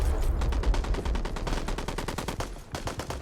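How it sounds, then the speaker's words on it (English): A BTR armored vehicle in a video game ambush on a Russian troop convoy fires rapid, evenly spaced bursts of heavy automatic gunfire, loud and close, with a short pause before the shots resume. "Oh, that sounds like the BTR."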